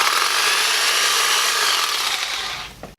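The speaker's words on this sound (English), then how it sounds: "So we're cutting our pieces to length here." Saw cutting wood pieces to length for a beginner couch cup holder project, one continuous loud rasping cut lasting a few seconds and ending abruptly as the piece drops free.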